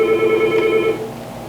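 A telephone rings with a steady electronic tone for about a second, then fades out, fairly loud and close, with no talking over it.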